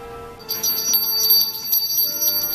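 A bell rings out bright and clear with rapid repeated strikes and shimmering overtones, starting after a brief quiet lead-in and sustaining loudly to the end, over a soft tonal backdrop.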